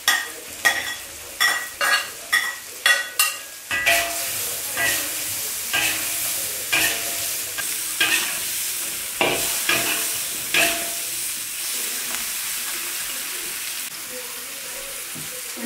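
Green chili and onion stir-fried in a pan for a shrimp dish, loud rhythmic scraping stirs at first, then a steady sizzle with softer intermittent stirring.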